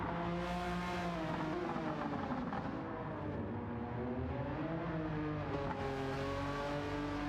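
A Porsche race car lapping Road Atlanta, its engine note climbing and dropping through gear changes as it revs hard, loud and sustained with no talk.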